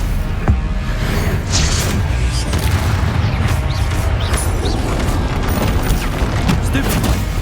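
Explosive spell blasts from Hogwarts Legacy: repeated booming impacts and crashing bursts during fast combat, loud and continuous with a game score underneath, mixed with a player voice calling out spells.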